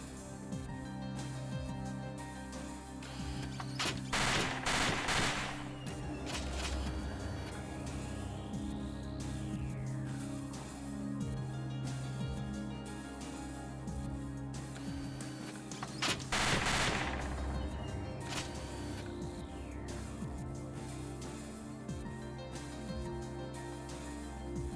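Rapid bursts of gunfire in the video game Parasite Eve 2, two dense volleys about twelve seconds apart over a steady game soundtrack, no speech.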